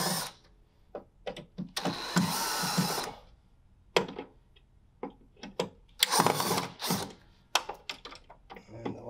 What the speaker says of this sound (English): So now I'm just going to remove these screws.